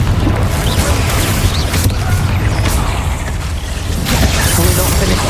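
Repeated Confringo fire-spell explosions from the video game Hogwarts Legacy, a loud, sustained rumbling barrage with crashing impacts and bursts during combat, continuous and dense throughout.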